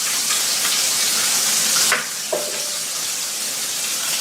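Pork chops sizzling in hot oil in a pan, a loud steady frying crackle that briefly surges and then drops near the two-second mark, followed by a faint clink and continued sizzle.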